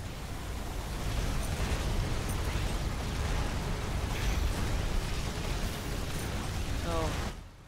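Buildings blowing apart under turret fire in the video game Riftbreaker: a dense, continuous roar of explosions and crackling bursts, loud and sustained, cutting off abruptly at the end.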